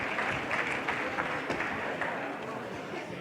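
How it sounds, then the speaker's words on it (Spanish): An audience at a business summit in Mexico applauds in a continuous, moderately loud patter of many hands, a speaker's voice carrying over the clapping. "que le den un aplauso"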